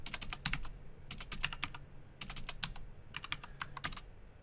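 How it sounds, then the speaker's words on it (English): Rapid typing on a computer keyboard while writing Python code comes in three close, busy bursts of clicking keystrokes with short pauses between them. No one speaks. "Oh man, my typing's bad."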